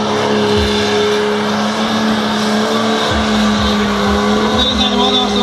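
An old Mercedes 123 drift car with a diesel engine and automatic gearbox races at a drift event, its engine droning loudly and continuously up close, with a voice talking over it.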